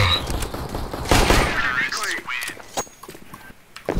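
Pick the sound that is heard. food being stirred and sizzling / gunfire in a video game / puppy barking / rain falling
gunfire in a video game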